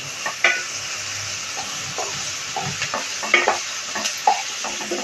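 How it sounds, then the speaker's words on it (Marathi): Dal roasts in a pan for jowar upma with a soft continuous sizzle, and a spoon stirs it now and then with light scraping taps. No one speaks. "डाळ किती खमंग अशी छान भाजली आहे"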